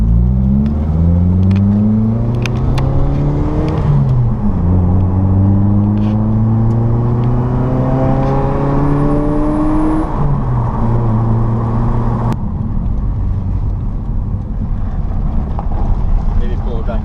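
A car engine runs loudly and revs up repeatedly through rising gears, with wind buffeting the microphone and a brief drop in pitch toward the end.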